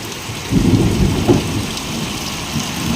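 Heavy rain pours steadily while thunder rumbles low and loud through the middle, with swells of roaring downpour and no voices.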